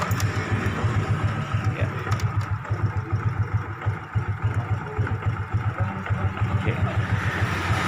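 A motorcycle engine idles steadily nearby with a low, even throbbing pulse while a voltmeter is checked on the charging system; brief words are spoken over the running engine.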